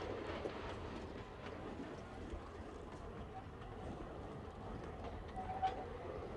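Alishan Forest Railway train running through mountain forest, a steady broadband rumble and rattle of the cars that stays level and continuous throughout, with no clear voices.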